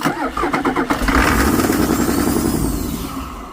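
Cold Ford 6.9 IDI diesel turning over on its starter, a rapid run of loud cranking pulses that catches into a rough, rumbling idle, with no talk over it.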